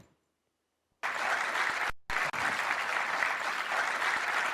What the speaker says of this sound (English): A very huge round of applause, ladies and gentlemen.